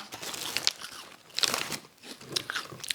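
Wasabi-flavored mini rice crackers crunch up close in a few distinct bites followed by crisp chewing, sharp and fairly quiet, with no talking.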